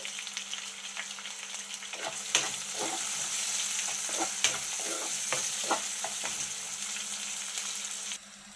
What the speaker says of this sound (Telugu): ఒక పావు స్పూను ఆవాలు వేసి వేపుకోవాలి ఇందులోని రెండు ఉల్లిపాయలు ఒక మూడు పచ్చిమిరపకాయలు వేసుకొని వేపుకోవాలి